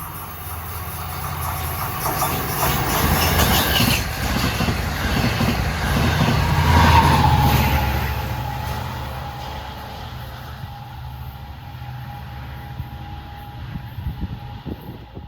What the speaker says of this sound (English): here comes our first westbound diesel train.